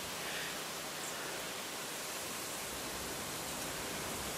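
Steady broadband wind roar buffeting a microphone outdoors at a seaside villa near the beach on the west coast of Barbados, a continuous loud rushing that fills the whole clip with no break.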